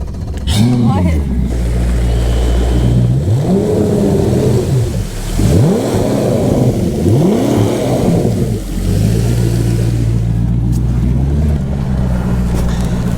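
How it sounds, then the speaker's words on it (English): The big outboard motor on a bass boat revs up and down several times, a loud droning engine that rises and falls in pitch, close and continuous throughout. "Trolling motor can't get to that grass, so I'm gonna use the big motor."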